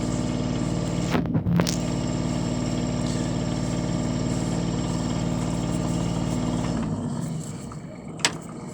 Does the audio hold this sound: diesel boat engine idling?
yes